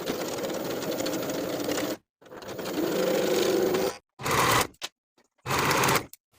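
A sewing machine runs in several bursts, stitching the shoulder seams of a linen summer dress, with long steady runs broken by pauses and short stops; close and loud, with no voices.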